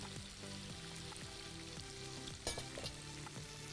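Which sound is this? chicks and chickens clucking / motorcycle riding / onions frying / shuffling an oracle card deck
onions frying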